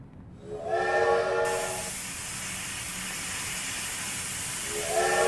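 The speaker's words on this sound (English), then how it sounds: "Thomas the Train." A steam train sounds a long harmonic whistle over a loud, steady hiss of steam and rail rumble, then the whistle returns briefly near the end.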